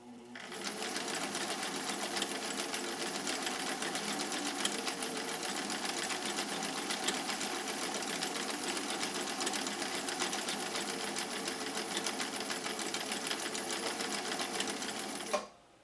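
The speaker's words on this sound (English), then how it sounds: "when you are sewing at full speed versus at the slow gear" Sewing machine running at full speed, a steady, dense, close mechanical whir that continues unbroken for about fifteen seconds before cutting off abruptly.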